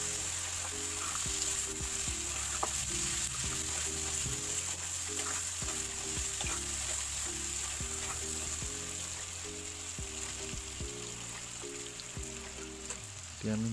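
Chicken mixed with salt and turmeric in a pan for a traditional sesame chicken dish sizzles and stirs steadily throughout, set against continuous background music with no talking.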